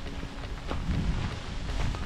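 Heavy rain falls outdoors at Djurgården in Stockholm, a dense, continuous hiss with wind buffeting the microphone and low rumbling underneath.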